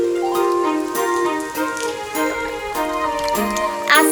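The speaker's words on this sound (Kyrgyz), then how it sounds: "А жамгыр нөшөрлөй баштады." Heavy rain pours down in an animated cartoon, a continuous hiss of drops under tonal music, fairly loud and without talking.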